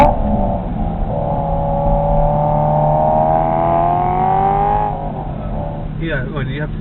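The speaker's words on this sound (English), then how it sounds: "the noise that comes out the back of this car is loud" A BMW M3 engine drones loudly with a rising exhaust tone that climbs steadily and then drops away, while people talk over it inside the car.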